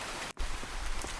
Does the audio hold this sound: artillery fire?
no